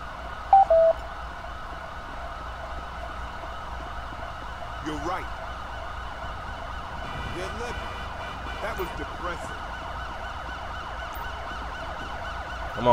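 Police and ambulance sirens wail on steadily in a GTA 5 police patrol, a continuous layered drone with a few brief sharper bursts, mid-distance and fairly constant throughout.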